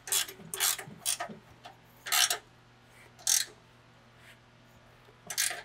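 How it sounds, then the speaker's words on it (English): A 7/8-inch or 22mm ratchet tightens the nut on a trail swing wedge system, giving several short loud ratcheting bursts at uneven intervals, close by, with quiet gaps between strokes and no talking. "you're gonna grab your 7/8 or 22 millimeter ratchet or socket wrench, and you're gonna tighten up the wedge system"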